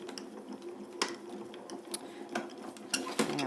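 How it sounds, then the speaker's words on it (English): A hand-cranked Grand Calibur die-cutting machine feeds plates and an embossing folder through its rollers, giving a close run of soft ratcheting clicks and gear knocks with a few sharper taps, and no voice. "Just feed it through our grand caliper here."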